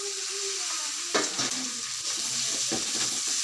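Green chillies and garlic sizzle in hot oil while a spoon stirs them around the pan, a steady frying hiss broken by a few louder scraping stirs, close up with no talking.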